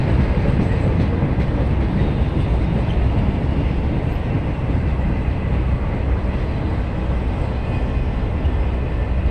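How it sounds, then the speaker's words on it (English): A long mixed freight train with autorack cars rolls steadily past, making a loud, continuous rumble with a faint rhythmic clatter of wheels that never lets up. "This is a long train."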